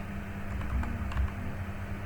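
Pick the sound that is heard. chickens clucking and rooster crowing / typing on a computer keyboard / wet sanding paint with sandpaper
typing on a computer keyboard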